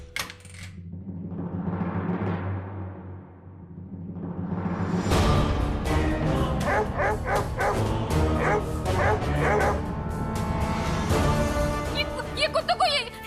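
Several dogs barking and yipping indoors, loud and repeated in rhythmic bursts, with some whimpering, up close.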